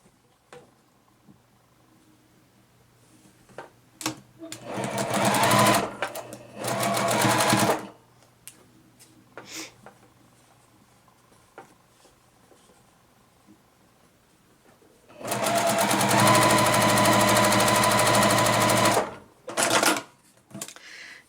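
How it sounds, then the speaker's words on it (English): A sewing machine stitches a beginner flower quilt block in two loud, fast-running bursts separated by quieter handling noises and small clicks. "I'm going to go ahead and pin this one and stitch it down."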